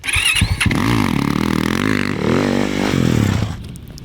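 A Yamaha YZ450FX dirt bike engine catches at a cross-country race dead-engine start, a few sputters and a clatter giving way to a loud, close, rising four-stroke roar that is held and revved before easing off.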